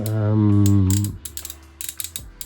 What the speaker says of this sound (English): His legs are on ratchets again